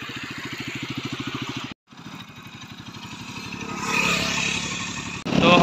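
A motorcycle rides along a national highway toward Pathankot, its engine thumping steadily and close by. After a brief cutout, wind and road roar swell as the bike picks up speed.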